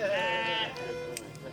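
A sheep bleats loudly and close by during shearing at an outdoor old home day event, one long wavering call followed by quieter background noise.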